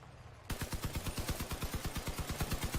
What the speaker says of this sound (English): I've got all 4 of my guns firing at somebody.